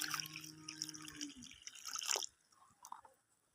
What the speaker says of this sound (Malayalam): ഇതിനകത്ത് നമുക്ക് കുറച്ചുകൂടെ വെള്ളം ആഡ് ചെയ്യാം.